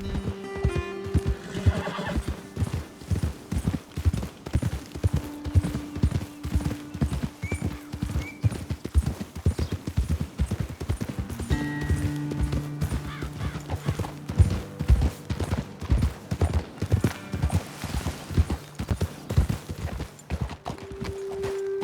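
Horses walking in the video game Red Dead Redemption 2, with steady continuous clip-clop of hooves and occasional neighs and whinnies, close and fairly loud.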